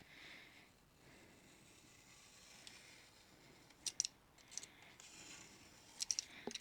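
Scissors snip through damp paper in a quiet room, giving several short, faint crisp cuts clustered together near the end after a stretch of near silence.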